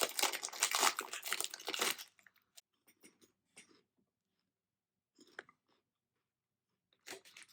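Crunchy Halloween pizza-flavored puffed snacks from a Japanese snack box being chewed up close, a dense two-second burst of loud crunching followed by scattered softer bites and crinkles with pauses of quiet.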